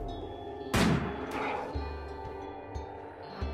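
Gunfire from a weapon in the colony game Rimworld, one sharp, loud shot that booms and fades, followed by a few softer thumps.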